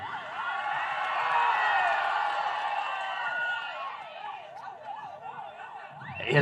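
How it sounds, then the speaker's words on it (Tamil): An ambulance siren passes on a street, its rising-and-falling wail heard through a loud wash of crowd and traffic noise, then clearer and steadier as it goes on. "இல்ல நிறைய இப்பெல்லாம் அடிக்கடி ஆம்புலன்ஸ் போகுது."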